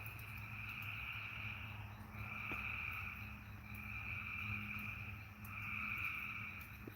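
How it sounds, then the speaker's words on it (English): Toads and occasional bullfrogs croak at night in a continuous, faint outdoor chorus, with pulsing trills that swell and fade in long waves over a low background hum. "Now this is toad frogs. Maybe some bullfrogs out there occasionally."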